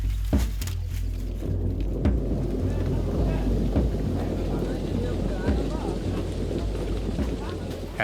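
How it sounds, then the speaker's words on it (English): Rain falls steadily around a large bamboo raft halted on a river in a heavy downpour, a dense hiss with low rumbling wind and occasional sharp knocks, heard beneath a voice. "At the journey's halfway point, the rain begins to fall, and the gigantic raft has had to halt."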